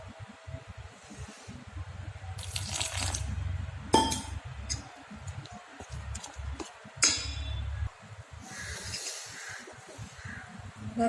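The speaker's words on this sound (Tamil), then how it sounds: "இன்னும் கொஞ்சமாக தண்ணி சேர்த்துக்கலாம்." Water is poured into a soaked puffed rice batter and stirred in a bowl, with soft sloshing broken by sharp clinks of a utensil against the vessel, close and intermittent, with no voices.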